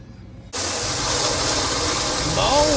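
A Maytag MDB4949SKZ2 dishwasher with a failing motor kicks on abruptly after half a second, a loud, steady rushing hiss and roar that holds without break, close to the listener.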